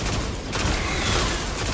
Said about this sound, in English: So what you want to do is keep on shooting the bats.